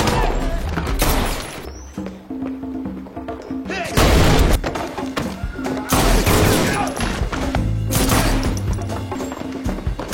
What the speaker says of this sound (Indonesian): Mereka memberondong dengan peluru.